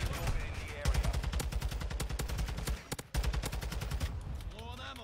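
Rapid automatic gunfire in the Call of Duty video game crackles in fast, loud bursts with a brief pause midway, while voices talk over it near the end.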